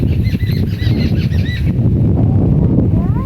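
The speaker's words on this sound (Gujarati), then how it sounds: "તો જો અત્યારે આ ચકલા બોલે છે" Sparrows chirp in short, bright bursts over a dense, low rumble beside a green chili field on a farm, with a soft flutter of wings.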